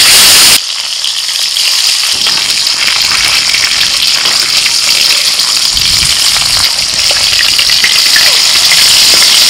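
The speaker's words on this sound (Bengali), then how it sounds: "তেলটা গরম হয়ে গেছে, এবার কই মাছগুলো ভেজে নেব।" Koi fish, ripe monsoon koi, dropped into hot oil and frying: a sudden loud burst of sizzling that then holds as a dense, steady, close crackling hiss.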